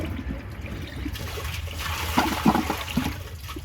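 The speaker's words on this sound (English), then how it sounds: "then give it a second flush" A 2013 Eago toilet flushed a second time during a flush test: water rushes and trickles steadily, with splashy gurgles swelling in the last two seconds, heard up close and without voices.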